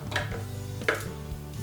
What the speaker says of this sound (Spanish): Ahora vamos a triturar los ajos